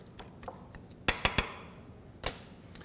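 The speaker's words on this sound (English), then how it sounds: "I'm just going to mash these up with a fork." A fork mashing grapes in a bowl for a tri-color salad with arugula and mozzarella: a few scattered light taps, then a quick burst of three sharp metallic clinks and one more a moment later, close and without talk.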